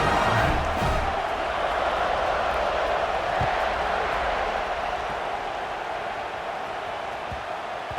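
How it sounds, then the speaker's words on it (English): Stadium crowd in a college football video game, Missouri at Arkansas rivalry, a continuous roaring wash of cheering ahead of kickoff, loud and steady throughout without distinct claps. "They're set to kick it off, and this crowd now ready to get behind them."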